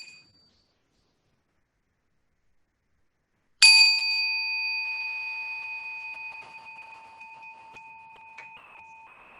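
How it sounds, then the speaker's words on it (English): A single mindfulness bell is struck once after near silence, ringing out clear and bright, then its pure tone slowly decays and lingers for several seconds. "when we hear the sound of the bell."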